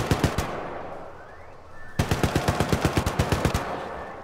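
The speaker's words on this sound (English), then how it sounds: "I'm just gonna let the turret do it." Rapid bursts of turret machine-gun fire in the video game Syndicate, a few shots, a pause, then a sustained loud rhythmic volley of sharp repeated reports.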